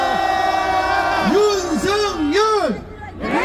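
Crowd at a nighttime youth rally and impeachment-opposition gathering in Gwanghwamun Square roaring loudly, with rising and falling shouted voices and whoops swelling into a sustained, close cheer.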